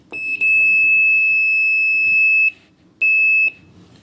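Multimeter continuity beep as the test leads touch during a Samsung dryer repair, a loud piercing steady tone lasting about two seconds, then a second shorter beep after a brief gap, close and with no talk.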